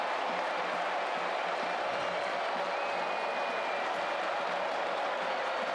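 Football crowd at Scott Stadium during a Coastal Carolina vs Virginia game, a steady broad roar of cheering and noise filling the whole stretch at an even level, with no clear speech on top.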